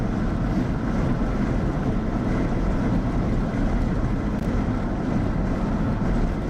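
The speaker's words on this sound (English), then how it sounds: "I'm driving into like a 40-mile-an-hour headwind going 80 on an Oklahoma highway" Strong wind roars against a vehicle driving at about 80 mph into a 40 mph headwind on an Oklahoma highway. The rush is continuous, loud and broadband, with no speech.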